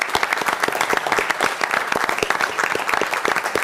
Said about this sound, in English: I want to give all of them a round of applause